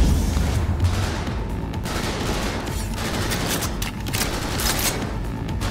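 Enemy gunfire in Cyberpunk 2077, a steady loud fusillade of rapid shots and bursts with booming impacts, sustained throughout without pause.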